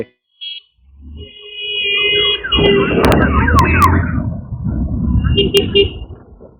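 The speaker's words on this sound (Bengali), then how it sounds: "একটু হর্ন মারছি যে" Short tonal horn blasts from a motorcycle on the highway run between Kolkata and Siliguri, sounding close over steady engine and road rumble, with a voice talking at times.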